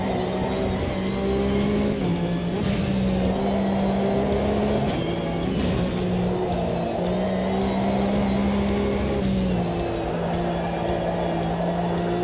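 An engine drones steadily and loudly in Automobilista 2 as a race car drifts. The pitch holds high and sustained with slight wavering, and the sound stays unbroken throughout.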